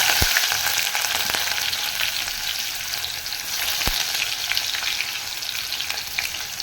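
Crushed garlic and onion fry in oil with popped mustard seeds for a Tamil horsegram rasam, giving a steady, close sizzle with a couple of sharp clinks of a spoon against the pan and no voices.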